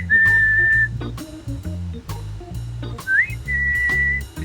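A person whistles to call a dog near a chicken coop, with two sustained, steady whistled tones, the second rising into a long held note, loud and close over low background rumble and clatter.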